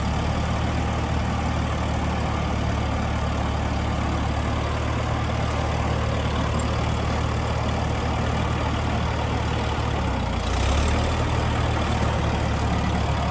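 The engine of an Allis-Chalmers D17 gas tractor runs steadily while its loader bucket is worked. It gives a constant close rumble, and near the end the engine note briefly shifts under load, with no voices.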